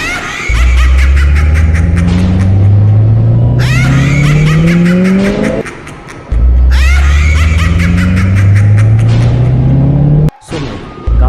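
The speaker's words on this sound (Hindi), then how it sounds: "सुमित दौड़ता हुआ गाड़ी स्टार्ट करता है और वहां से भागने लगता है।" Horror-story sound effect of a car starting and speeding away fast, engine revving up in two loud rising surges with a short break between, layered with eerie laughter, no talk.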